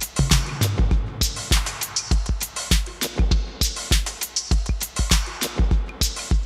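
Electronic drum track layered with an extra rhythm and delay: loud, steady percussive hits in a dense looping pattern, kicks and crisp high transients repeating with echoing tails, no voices.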